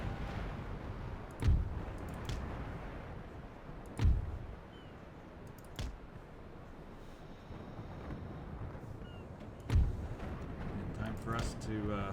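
Ship cannon fire and an explosion in a naval battle in Empire: Total War, heard as several deep booming thuds spaced seconds apart over a steady rush of wind and sea.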